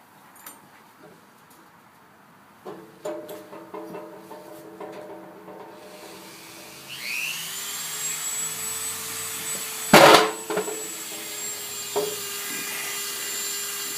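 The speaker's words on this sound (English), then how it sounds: "I'll go ahead and file this surface here." A hand file worked across an aluminum surface, rough scraping strokes at first, then a louder continuous rasping with a sharp clatter midway, heard close up with no talking.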